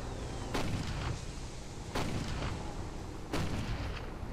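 Tank artillery in the video game Toy Soldiers, three heavy cannon blasts spaced about one and a half seconds apart over a low battlefield rumble, with no speech.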